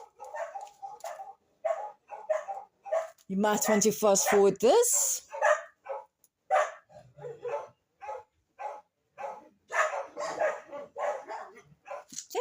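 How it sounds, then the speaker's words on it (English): Dogs break into a loud, close burst of barking early in the morning, clustered in the middle of the stretch, while a person talks on and off before and after. "because there's my dogs barking"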